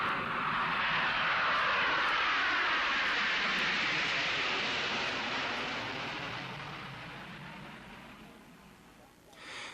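Airliner engine roar on a flight from East Berlin to Pyongyang, a loud steady broadband drone that slowly fades toward the end.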